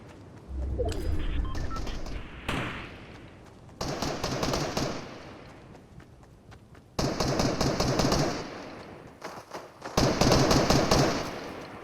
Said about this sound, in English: can hear gunshots again